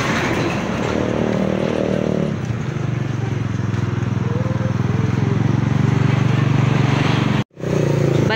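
Big vehicles pass on a nearby road with a loud, rumbling engine drone that swells and fades, briefly cutting out near the end, while a voice speaks faintly beneath.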